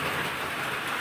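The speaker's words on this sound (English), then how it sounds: "I'm expecting the rain to stop in about 20 minutes, maybe less." Steady rain falls outdoors at a sawmill beside a cabin site, a dense, even hiss of drops striking surfaces with no pauses.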